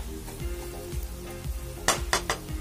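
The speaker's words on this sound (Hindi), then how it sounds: "बस इनको एक मिनट और हम हल्का सा भूनेंगे" Green chillies cooking in a pan for Rajasthani mirch tipore, with a steady low sizzle broken by a few sharp clinks of a utensil against the pan near the end; no voices.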